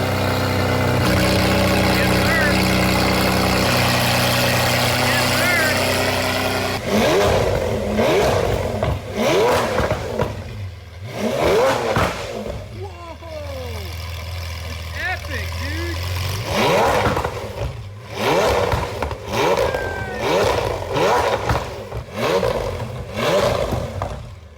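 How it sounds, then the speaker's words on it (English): A Lamborghini Aventador SV V12 engine with an aftermarket exhaust and opened valves idles with a deep drone, then revs hard several times in loud, sharp bursts that crackle and pop between throttle blips, close by. "it actually sounds pretty good with this Chinese exhaust right here"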